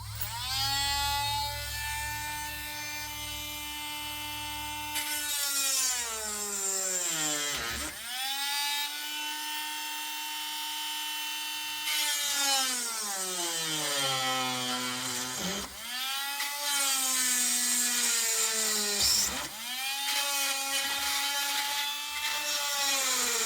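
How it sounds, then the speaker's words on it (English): Power drill boring into an Ace 38mm padlock, a loud sustained whine that sags in pitch as the bit bites into the metal, then recovers, with several brief pauses between bursts. "let's drill a bit."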